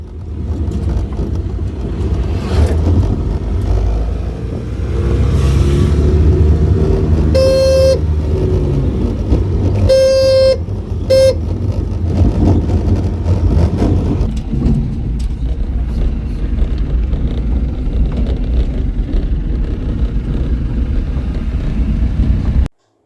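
A vehicle carrying a cow pulls away with a steady, loud engine rumble; the horn sounds in a couple of short toots partway through, and the engine drones on to the end.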